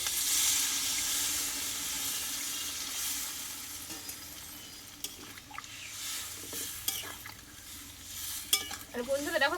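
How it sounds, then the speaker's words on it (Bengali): Mutton curry frying and being stirred in a pan, with a steady sizzle, spoon scrapes and clinks, and a brief burst of bubbling near the end as hot water is poured in. "এইবার এখানে আমি কিছুটা গরম জল দিয়ে দেবো"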